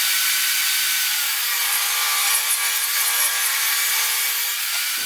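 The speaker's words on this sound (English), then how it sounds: "the first thing I gotta do is run all of this through the planer" Pallet wood boards fed through a planer make a loud, steady, unbroken roar with a whining hum, close and continuous the whole time, with no voices.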